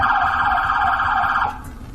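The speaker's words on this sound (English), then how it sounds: "a Little Rock police officer turned on his emergency lights and siren to let the neighborhood know of police presence" A Little Rock police car's emergency siren wails loud and close in a steady rising and falling sweep, then cuts off sharply partway through, leaving a faint low background.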